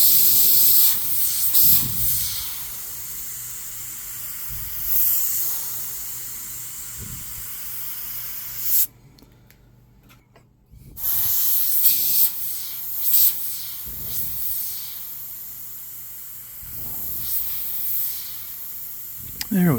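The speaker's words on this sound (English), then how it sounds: "it's not spraying very well at all." An H&S Evolution airbrush sprays in repeated hissing bursts, one nearer and louder than the rest, with a silent pause midway, under occasional talk.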